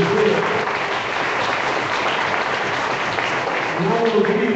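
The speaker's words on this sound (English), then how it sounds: "give a little round of applause" Dense applause from a crowd fills the clip at a steady, loud level, with voices mixed in beneath the clapping throughout.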